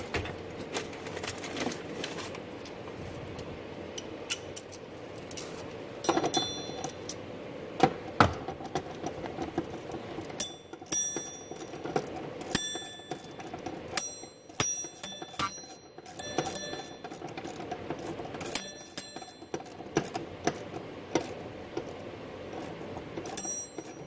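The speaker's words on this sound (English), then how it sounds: "I'm going to use my ratchet on the bottom here" Ratchet wrench working a seat belt bolt on a 2010 Nissan Maxima, bursts of quick metallic clicking in irregular runs over about twenty seconds, close and fairly quiet, with no talk.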